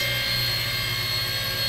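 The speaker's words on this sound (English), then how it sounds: "It's just a nice helicopter." A Blade 70 S radio-controlled helicopter flies indoors, its small rotors and motor giving a constant high whine with a steady buzzing hum, close and loud throughout.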